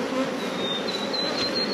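Honey bees buzz steadily on a hive frame during a mite-resistance field trial, a close, continuous drone with no talking.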